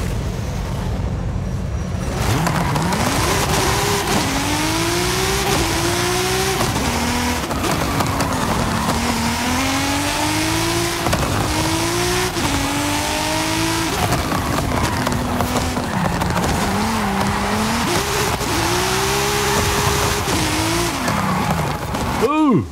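Race cars in the Forza Horizon 5 video game roar through a stadium race, engines rising and falling through repeated gear shifts with tire squeal, loud and continuous for the whole stretch.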